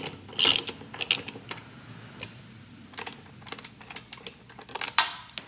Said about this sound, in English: The first thing you do is just undo this bolt here.